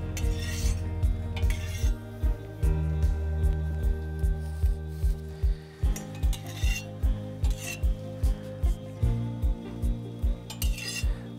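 Oil is rubbed into a cast iron kazan during seasoning, giving steady, regular scraping strokes against the metal that repeat in an even rhythm, close and moderately loud.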